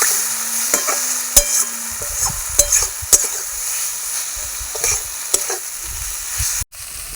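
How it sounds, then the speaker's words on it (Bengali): Potatoes frying with spice masala in a pan for a vegetarian potato-paneer dish, stirred with several sharp spatula scrapes and knocks over a steady close sizzle; a brief tone sounds early on. "মশলাটাকে ভালো করে একটু আলুর সঙ্গে কষিয়ে নেব।"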